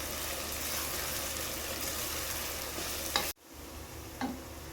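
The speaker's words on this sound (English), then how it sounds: "Stir fry the onions until the color changes." Sliced onions for biryani sizzle and hiss in a hot pan while being stirred, a steady close frying noise broken by a brief cut and then a few scrapes.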